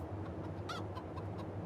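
Soft, scattered clucking from chickens in Farming Simulator 22 over a steady low hum, with a few short bird-like calls standing out briefly.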